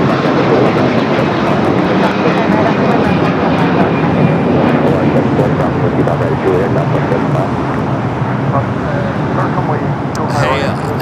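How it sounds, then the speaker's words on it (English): Hawaiian Airlines Airbus A330-200 airliner at LAX, a loud continuous engine roar that holds steady, easing slightly near the end. "Hawaiian A330-200 heading to Kahului."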